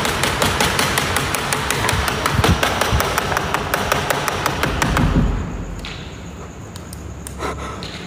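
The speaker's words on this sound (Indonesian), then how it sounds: "Suara mesin, wa." Steady mechanical machine noise with repeated tapping and thudding rings through an abandoned old factory, loud and continuous for about five seconds before dropping to a quieter hum with faint knocks.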